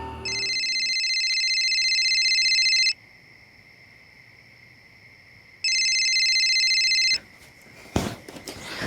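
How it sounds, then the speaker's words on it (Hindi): A telephone rings in two long electronic bursts separated by a pause, loud and close, followed by a short shuffle of handling sounds. "एक दिन सोफिया ने सामने से मुझे फ़ोन किया"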